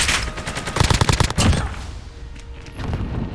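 Pistol shots ring out in the shooter game Warzone, a quick cluster of sharp reports fired close together near the start, then fading into game ambience.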